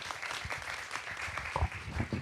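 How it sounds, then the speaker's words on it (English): Audience applause at a Black Fest 2025 event, sustained clapping from a crowd filling the whole moment at steady loudness, with no speech over it. "Absolutely, give it up for Ace."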